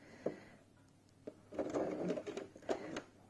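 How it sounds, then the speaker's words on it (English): A domestic sewing machine stitches into quilt binding on quilt-as-you-go half square triangles, sounding in a few short close bursts of rapid mechanical whirring, separated by brief pauses while the fabric is turned. "then stitch into that binding, press the foot up, rotate the fabric, and then I'm going to come towards me a couple of stitches"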